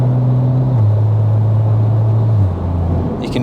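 Toyota GR Supra fitted with a titanium exhaust, heard from inside on a night drive, its low droning engine note stepping down in pitch as it shifts through the gears, steady and moderately loud.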